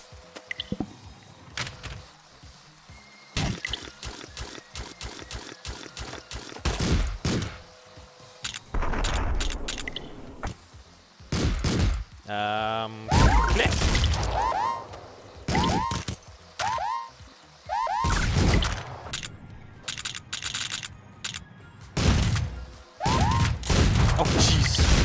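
Gunfire erupts in a Streets of Rogue video game scene, with rapid bursts and sharp shots mixed among crashes, door knocks and chirpy game effects, loud and busy throughout.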